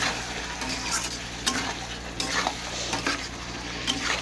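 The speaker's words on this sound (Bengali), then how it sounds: "আবার কষে নেবো লঙ্কার গুঁড়ো দিয়ে" Mutton being stir-fried with chili powder in a hot pan, with a steady sizzle and repeated scraping strokes of a stirring spoon, close up and without talk.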